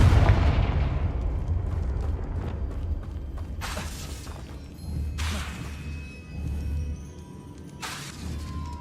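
Confringo, a fiery explosive spell cast in Hogwarts Legacy, opens with a heavy booming blast that rumbles and decays, followed by several sharp crackling bursts and lingering low rumble.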